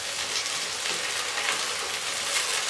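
Tomatoes and green chillies fry with browned onions in a pan, giving a steady, dense sizzle that carries evenly throughout without talk.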